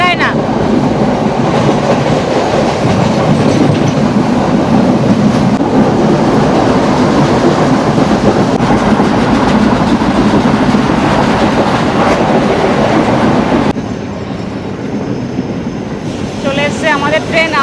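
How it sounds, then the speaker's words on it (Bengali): A train in southern Sri Lanka rolls along the railway with loud, continuous rumbling and clattering wheels for most of the stretch, easing to a quieter, steadier rumble near the end. "চলে এসছে আমাদের ট্রেন আম্বালাঙ্গোদা রেলওয়ে স্টেশনে।"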